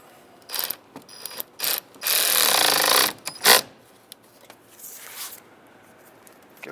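A hand ratchet tightens the negative battery terminal on a 2007-2015 Mazda CX-9, heard as short clicking bursts and one longer run of rapid clicks, close and sharp amid quiet pauses.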